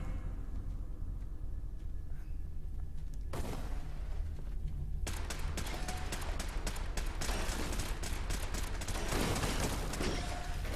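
Turrets fire in the Fallout 4: Far Harbor memory puzzle, bursts of rapid gunfire crackling loud and dense after a quieter opening with a few scattered shots.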